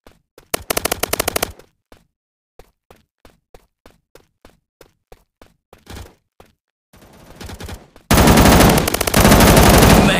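Gunfire from the MaskGun shooting video game: quick rattling automatic bursts, a run of evenly spaced single shots, then a long, loud sustained burst of machine-gun fire near the end.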